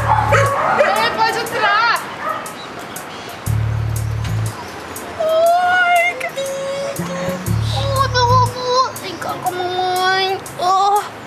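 A small dog barks in short yips and lets out high, wavering whimpers several times, mixed in with people talking nearby.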